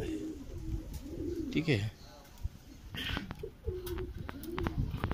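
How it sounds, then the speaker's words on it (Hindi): Male Madrasi pigeons coo in a kept loft in Uluberia, Howrah, with repeated low rolling coos at close range, while someone speaks briefly and other faint bird sounds are scattered between. "ये कबूतर जो है बहुत बढ़िया कबूतर आया है"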